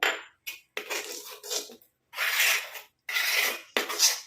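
Rice-water hair pack being stirred and scraped in a bowl, a series of short rasping bursts separated by brief pauses, close and fairly loud, no talking.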